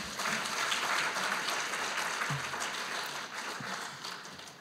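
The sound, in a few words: audience applause at conference award ceremony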